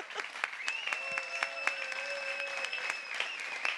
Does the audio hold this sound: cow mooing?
no